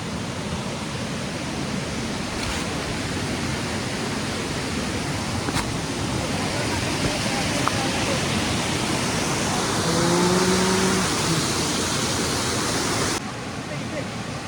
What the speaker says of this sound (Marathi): वाहतं पाणी आहे, म्हणजे स्थिर नाही आहे, वाहतं पाणी आहे